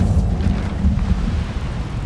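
A low, rumbling fire blast from the Incendio spell in Hogwarts Legacy, a dense roaring burst that fills the whole short moment with no talk over it.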